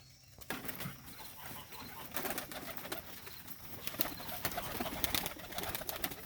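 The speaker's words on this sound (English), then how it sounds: "I'm going to let these pigeons out." Homing pigeons coo softly in their outdoor loft amid a busy bed of rustling and occasional wing flaps. The sounds are moderately close and carry no talk.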